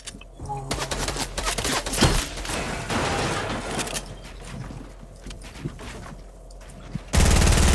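Rapid gunfire in the video game Fortnite, dense bursts of automatic shots firing close and loud for several seconds before a sudden change in the game sound.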